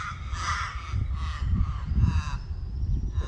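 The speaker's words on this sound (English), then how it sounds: "we saw crows and currawongs chasing him away" Crows and currawongs call harshly in short repeated bursts while mobbing a large bird outdoors, several raucous caws standing out over a low rumbling background.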